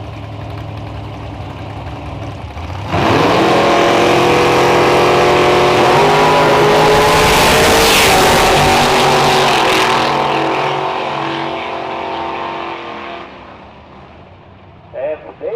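Big-block drag cars, a 73 Vega and a Ford-powered Gran Torino, launching side by side on a time trial run at a nostalgia drag event: a loud roaring surge that peaks and fades over several seconds.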